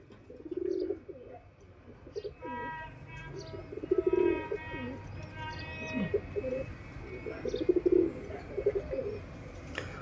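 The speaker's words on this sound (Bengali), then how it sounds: "আমার অনেক পছন্দের একটি কবুতর।" A pigeon coos in repeated low, throaty rolls, close and clear, with faint chirps and quiet background noise between phrases.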